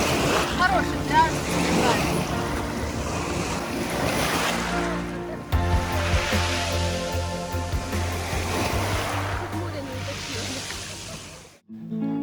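Sea waves wash steadily onto the beach at New Batumi, a continuous surf roar with wind buffeting the microphone and some voices in the background.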